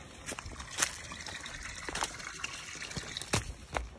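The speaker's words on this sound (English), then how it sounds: "our water's kind of starting to slow down on the spillway" Water trickles down the spillway of a small micro hydroelectric setup during a dry spell, a quiet, uneven dribble with scattered splashes and drips close by.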